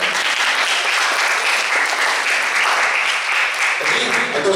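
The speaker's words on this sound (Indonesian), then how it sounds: "Tepuk tangan untuk kita semua." School students applaud together at a school anti-drug outreach session, steady dense clapping filling the room throughout.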